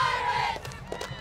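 A middle school cheer group calls out together in a loud, close burst of shouted cheering at a Christmas parade in Fort Walton Beach, fading to scattered voices after about half a second.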